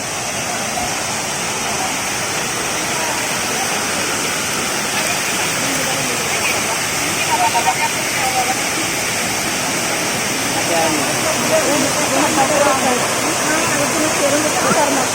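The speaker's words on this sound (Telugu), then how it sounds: "సో పైనుంచి చూద్దాం వాటర్ ఫాల్" A steady, loud roar of falling water at Tiryani waterfall fills the whole stretch, broadband and continuous, with faint voices now and then beneath it.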